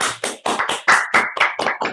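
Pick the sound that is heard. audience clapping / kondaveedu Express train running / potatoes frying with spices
audience clapping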